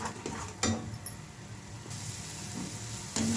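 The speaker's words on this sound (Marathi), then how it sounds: "गॅस फास्ट करायचा आणि मग सारखं असं आहे ना मिक्स करत राहायचं खाली चिटकून नाही द्यायचा मसाला" Masala of spices and paste frying over high heat in a kadhai, a soft steady sizzle with occasional scraping knocks as it is stirred continuously.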